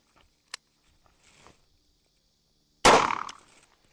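One sharp, loud report from a .44 revolver firing a factory Fiocchi 210 grain cowboy action load, close by and decaying quickly, preceded by a few faint clicks and handling noises.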